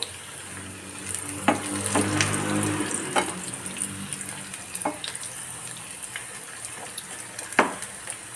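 Baby corn frying in hot oil with a steady sizzle and scattered pops and crackles as the pieces are flipped, close by with no talking.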